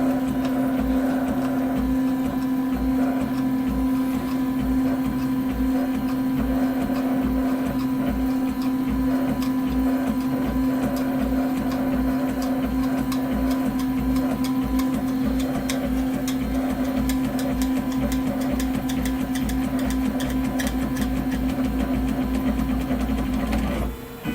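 A Robin 3D printer, braced with a second post behind its x-axis, runs steadily with whirring stepper motors and a constant mechanical hum, close and continuous, its busy clicking texture quickening slightly over time.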